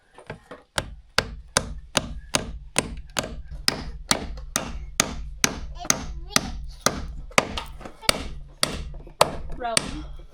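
A hammer strikes repeatedly while sheetrock is installed for a winter project, roughly twenty-five sharp, evenly spaced blows landing close and loud over about ten seconds.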